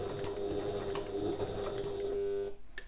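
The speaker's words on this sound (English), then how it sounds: "I'm pivoting and sewing across the top." A sewing machine stitches across the top of a passport folio with a steady, close motor whir and mechanical clatter, then stops shortly before the end.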